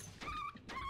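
A dog in the dungeon game Catacomb Kids gives two short whimpering yelps, close and fairly loud, with no talk over them.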